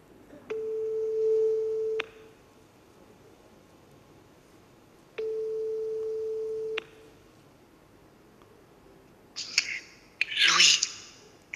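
A telephone rings on a call line with two long, steady tones separated by a pause, followed by a brief burst of bright noise.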